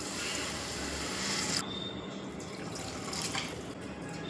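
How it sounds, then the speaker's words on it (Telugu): Water poured into a pan of masala while making chicken and egg Maggi, a steady close rush of liquid that cuts off partway, followed by quieter splashing and settling. "ఇప్పుడు ఇందులో కొంచెం వాటర్ యాడ్ చేస్తున్నాను"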